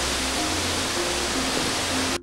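Kisiizi Falls in Uganda, a waterfall near vegetation leading toward Lake Edward, roars as a steady, dense wash of rushing water that fills the whole clip loudly before cutting off abruptly near the end.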